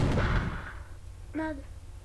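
An explosion in the mobile game Bricks N Balls, a short, loud, muffled burst at the start that dies away within a second, followed by a brief voice over faint background sound.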